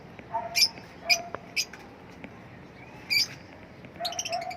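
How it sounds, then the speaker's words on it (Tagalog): Pet birds fed an African seed mix give a scattering of short, high chirps and calls in bursts, fairly faint, against a quiet background with no talking. "Ito yung mga ibon natin naghintay. Ito nag-ingay na,"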